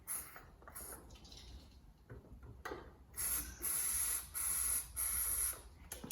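Short bursts of aerosol spray hiss into the carburettor of a Yamaha SR125 motorcycle, several close sprays of about half a second each following quieter scraping and handling noises.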